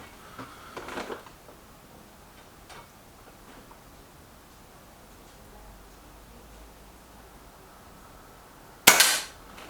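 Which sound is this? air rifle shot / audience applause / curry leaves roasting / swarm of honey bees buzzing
air rifle shot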